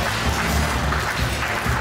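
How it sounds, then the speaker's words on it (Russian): Loud, dense applause from a crowd of guests fills a family birthday party for a one-year-old, a steady continuous ovation with no pauses. "под громкие овации мы провожаем прабабушку за ее почетное место"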